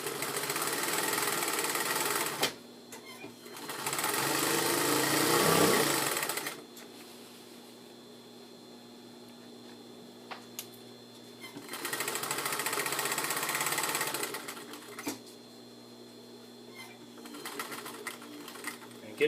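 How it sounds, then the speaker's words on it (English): Sewing machine stitching a jabot, two sustained bursts of fast mechanical whirring with a pause between, then lighter handling sounds, close and loud over a quiet room. "keep your needle down, lift up, rotate it, and sew down"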